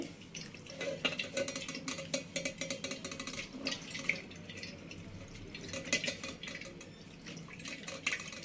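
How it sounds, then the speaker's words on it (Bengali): Water pours and drips over fresh chhana cheese curds being rinsed in a strainer, a close, quiet patter of splashes and drips with light handling noise. "ছানাটা আবার একবার ভালো করে জল দিয়ে ধুয়ে নিতে হবে।"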